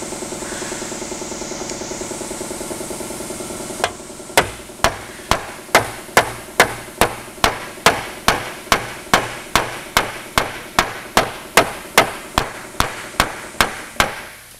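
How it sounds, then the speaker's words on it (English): A door skinning hammer strikes a metal Porsche 550 dash panel: about twenty sharp, loud, evenly spaced blows, each with a brief ringing decay. A steady mechanical hum plays beforehand and continues underneath. "This is a door skinning hammer."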